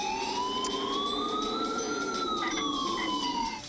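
An ambulance siren wails loudly and close by, its tone sweeping slowly up and down over a rumbling engine, with no talking.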